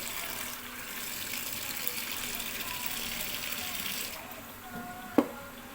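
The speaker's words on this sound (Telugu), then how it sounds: "మూడోసారి ఇలా వాటర్ నిండుగా నింపి పెట్టుకోవాలి" Water runs steadily into a cooking vessel after washing lentils, a soft continuous gush at moderate level, ending with a brief sharp clink near the end.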